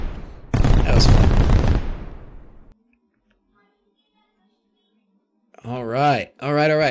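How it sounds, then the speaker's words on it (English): A heavy 4th of July firework goes off with a loud, dense burst that crackles for about two seconds before cutting to silence, followed by people talking. "heavy piece of fireworks you got there"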